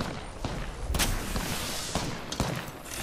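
Apex Legends gunfire crackles in loud, dense bursts, several sharp shots overlapping in quick succession amid a noisy, chaotic battle mix.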